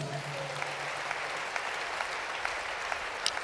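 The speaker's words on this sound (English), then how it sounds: "Let's clap to that." A church congregation applauds, steady soft clapping from a crowd in a large room, with a faint low voice at the very start.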